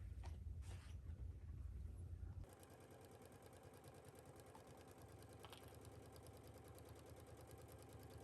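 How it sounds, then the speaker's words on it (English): A home sewing machine stitching garment pieces at a 5/8 seam, a faint, steady rapid whirr and needle chatter that starts after a short burst of low rumble. "right sides together, we are going to stitch this down at 5/8 at our machine"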